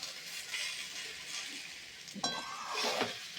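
Dry Gobindobhog rice being stir-fried in a pan with no water, a quiet scraping and rustling as a utensil pushes the grains around, with a couple of sharper scrapes and light clinks near the end.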